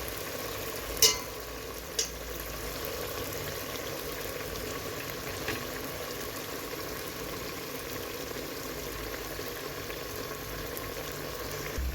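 Onions fry in a pan with a steady, even sizzle and faint bubbling, broken early on by a couple of sharp clicks of a utensil against the pan, then a constant hiss.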